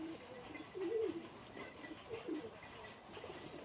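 Male Matraj pigeon giving two soft, low coos a second or so apart, faint and close over a quiet background hum.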